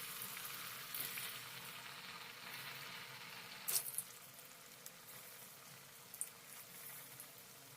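Raw banana kofta balls fry in hot oil with a soft continuous sizzle, broken by a few sharper pops and crackles, close but fairly quiet.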